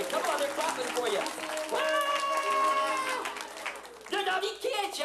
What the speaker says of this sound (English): Come on, they're clapping for you.